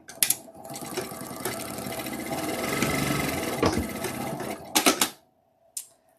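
A home sewing machine pieces fabric together with locking stitches. It runs in one steady, loud mechanical whir for about five seconds, then stops with a few sharp clicks.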